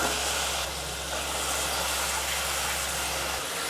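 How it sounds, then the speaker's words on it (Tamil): Brinjal, broad beans and cowpeas sauté with onion and tomato in a pan, giving a steady, loud hiss and sizzle that runs unbroken throughout with no voices. "எல்லா காய்கறியும் வந்து நல்லா வதங்கிடுச்சு"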